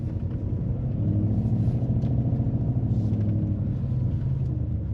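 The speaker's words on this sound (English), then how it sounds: "you can hear the roar of the V8 exhaust" A 2025 Mercedes-AMG SL 63 S E Performance hybrid roadster with a V8 drives along, its exhaust giving a steady, deep, continuous rumble that holds at an even level throughout.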